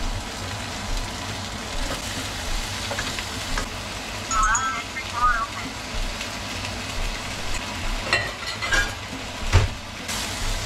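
Potato frying in a pan at home, a steady soft sizzle running throughout with a few clinks and faint kitchen noises.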